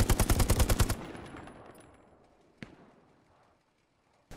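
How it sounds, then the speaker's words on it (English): Metallic ting of a headshot in the Hell Let Loose video game, a single sharp, bright click standing alone after a close, rapid machine-gun burst that dies away into near silence. "that's the ting of another headshot"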